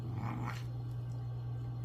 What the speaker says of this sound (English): There is a lot of growling and attempts to get away from me.